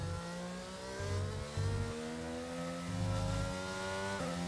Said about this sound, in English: Should I just be revving out the engine?